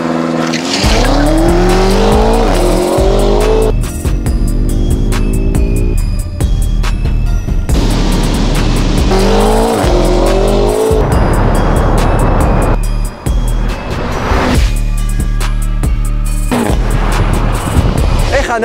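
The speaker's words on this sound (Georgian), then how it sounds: "M5 და Tesla და ცოტა ხანში უკვე დავაჭერთ და ვნახავთ დაპირისპირებას შიდა წვის ძრავსა და ელექტრო ძრავს შორის." A 617 hp BMW M5 F90 drag racing a 670 hp Tesla, the M5's engine roaring loudly through repeated rising gear-change sweeps with sharp exhaust pops and crackles, heard up close from the car.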